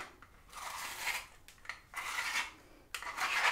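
A cheap handheld spiralizer grates the last end of a vegetable in repeated rasping, scraping strokes, several short bursts close by with brief pauses between them.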